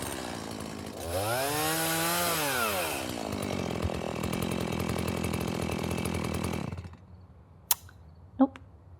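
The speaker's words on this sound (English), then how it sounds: "Do you charge a chainsaw," A chainsaw revs up with a rising, falling whine, then runs at a loud steady buzz for several seconds before cutting off, followed by two sharp clicks.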